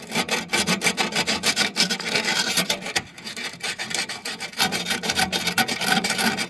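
Sandpaper rasps back and forth against a Rheem furnace part in quick, rhythmic strokes, close and loud, with a brief pause midway and no talking.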